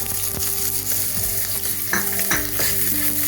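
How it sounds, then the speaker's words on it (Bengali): Chopped onions dropped into hot oil with bay leaf and cinnamon, a loud continuous sizzle with close stirring clatter from the pan, no voices. "এখন আমি এই পেঁয়াজ কুচানোগুলো দিই।"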